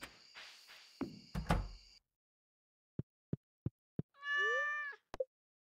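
A cat in the farming game Stardew Valley gives one clear, drawn-out meow near the end, following a run of sharp ticking clicks and some earlier clattering game effects.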